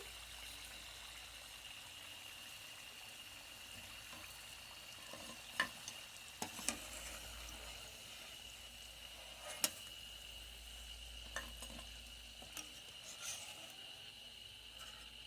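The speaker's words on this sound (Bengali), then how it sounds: "এভাবে করে আমি সব পিঠেগুলো ভেজে নেব" Palm fruit pitha cakes fry in hot oil with a soft, steady sizzle and occasional small crackles and pops, faint and continuous with no voices.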